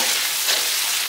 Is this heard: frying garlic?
yes